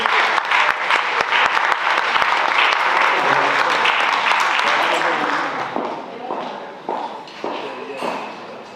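A crowd at a Women's History program applauds steadily, the clapping loud at first and then gradually thinning and fading toward the end.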